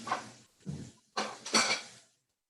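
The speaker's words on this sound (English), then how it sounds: "I'm gonna have to wash out that butter pan that I used." A butter pan is washed out in a kitchen, making four short, close bursts of clattering and scrubbing, with quiet in between and then silence.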